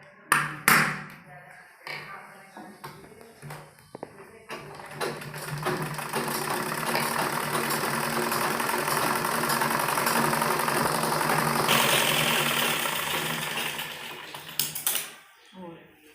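A sewing machine stitching baby frock fabric runs in a steady whirring burst for several seconds, close by, with short starts, stops and handling clicks around it.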